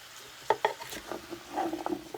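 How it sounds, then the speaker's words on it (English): Stirring chunks of sausage in a casserole pan, a few soft scrapes and clacks of the utensil against the pan over a faint sizzle, close and brief. "Give them all a good stir through and let all that go."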